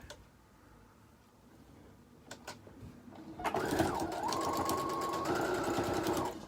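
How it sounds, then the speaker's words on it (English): A sewing machine stitches a faux fur wristlet, starting after a few quiet seconds with a couple of clicks, then running steadily and close for about three seconds without talk. "And I'll just sew it here before I sew everything together."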